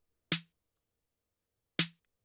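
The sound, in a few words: dry snare drum hit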